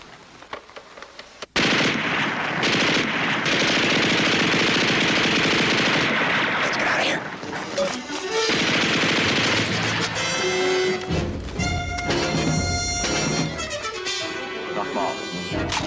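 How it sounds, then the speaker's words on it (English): Machine gun fire in a war combat scene: after a brief quiet start, a loud sustained burst roars out, followed by rapid rattling shots with echo and a few voices underneath. "Feuer eine Runde."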